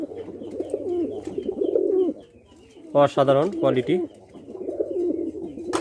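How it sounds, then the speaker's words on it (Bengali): A pair of white fantail (lakkha) pigeons coo in short throaty bursts, fairly close, mostly overlapped by someone speaking, with one clearer cooing spell midway. "এখানে দেখতে পাচ্ছেন এক জোড়া সাদা লক্ষা কবুতর"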